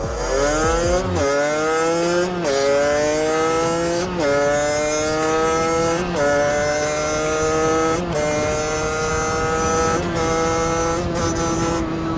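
An old enduro motorcycle converted to supermoto is held at full throttle in sixth gear on a straight, its engine droning loud and steady in a rising whine, broken by a few brief gear-change dips.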